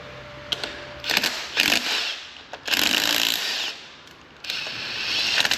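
A wrench working a bolt on a 2013-2014 Ford F-150 3.5 EcoBoost engine during timing component assembly, heard as several close bursts of metallic ratcheting clicks separated by brief pauses.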